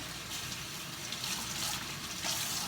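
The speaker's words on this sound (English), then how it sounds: "So basically I just rinse it. I get it nice and saturated." Tap water runs in a steady, soft gush while cross stitch fabric is rinsed under it, a continuous close splashing with no voices.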